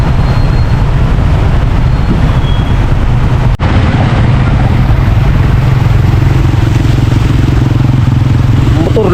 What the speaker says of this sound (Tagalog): Babad sa tubig yung motor